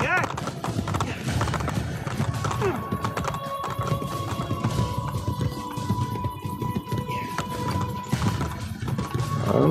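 Rhythmic hoofbeats of a horse clip-clopping along with occasional neighing in Assassin's Creed Brotherhood, mixed with game sound effects and voices talking over it.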